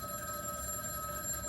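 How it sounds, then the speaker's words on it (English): A telephone rings continuously through a steady electronic tone during a math lesson on solving linear systems, faint and somewhat distant over a soft background hiss. "Sorry about the phone again. People should not be calling me."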